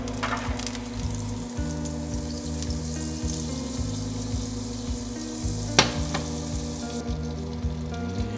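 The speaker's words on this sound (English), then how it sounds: "Put a little butter in here also, give it a little more flavor. Melt that down." Butter melting into hot bacon grease in a pan while pork chops are cooked, a steady close sizzle with a brief louder crackle partway through and no one talking.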